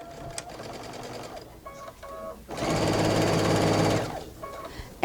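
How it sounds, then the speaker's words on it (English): A domestic sewing machine back stitching fabric runs in short bursts, then one longer steady whirring run near the mic, with quiet pauses between. "So now I'm going to back stitch here."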